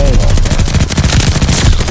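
Call of Duty Vanguard gunfire in a brief, loud burst of rapid automatic shots with punchy low thumps, crowding the whole moment with relentless staccato fire.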